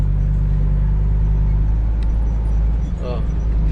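A ten-wheeler truck rumbles past on a rural road, its deep engine drone steady and loud throughout, with a brief air-brake hiss near the end.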